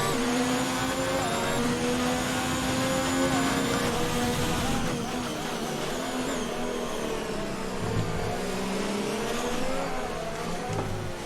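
F1 car engine in the F1 2019 video game during qualifying at Mexico, a loud sustained high-pitched whine shifting up and down in pitch, faint background with no clear talk.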